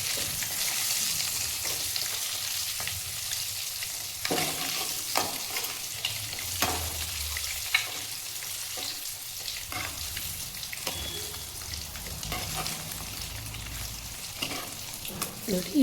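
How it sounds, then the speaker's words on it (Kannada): Frying for an egg curry sizzles steadily in a pan, close and continuous, broken by repeated scraping and clacking stirs at an uneven pace throughout. "ನೋಡಿ, ಈ ಥರ ಗೋಲ್ಡನ್ ಬ್ರೌನ್ ಕಲರ್ ಬರೋವರೆಗೂ ಫ್ರೈ ಮಾಡ್ಕೋಬೇಕು."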